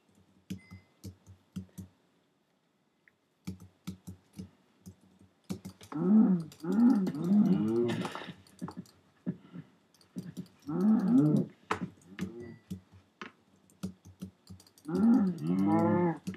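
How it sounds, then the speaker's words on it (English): Cows in a survival video game moo in several drawn-out, low bellows, the loudest bursts coming in three groups, with quieter clicking game sounds between them and no talking. "Just gonna kill these last cows."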